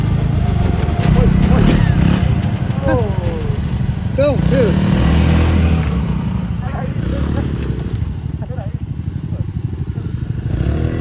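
A scooter engine revs and accelerates hard on a rough road during a Himalayan crossing, droning loud and close, while excited voices shout over it the whole time.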